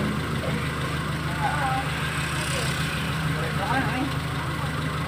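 A Suzuki Futura engine idles at about 700 RPM in a steady low hum, while people talk nearby.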